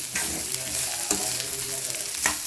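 Ginger pieces fry slowly over a low flame in a pan, a steady close sizzle with occasional stirring scrapes.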